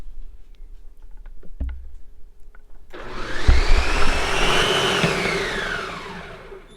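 Cream churning into butter and buttermilk in a blender: after a few soft knocks, the motor starts with a loud steady whirring roar, and the liquid sloshes and swirls inside the jar before the sound eases off near the end.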